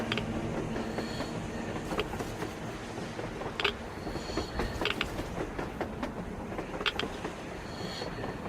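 A train in the video game Metro Exodus passes with a heavy, continuous rumble, rhythmic clickety-clack of wheels and a few sharp metallic clanks, fairly close.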